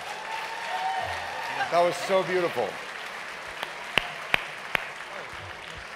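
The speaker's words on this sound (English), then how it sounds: "Can we have another round of applause for Sweet Honey in the Rock?" Audience applause at a gala for the a cappella group Sweet Honey in the Rock, a steady wash of clapping from a large crowd that carries under a speaking voice, with a few sharper claps near the end.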